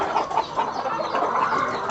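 Hens on a large hobby poultry farm cluck softly in a murmuring group, a dense, close, steady chorus of low calls with no voices over them.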